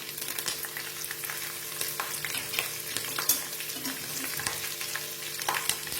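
Garlic, green chilies and curry leaves sautéing in a pan, a soft, continuous sizzle with scattered scraping clicks and taps of stirring, fairly quiet and with no talking.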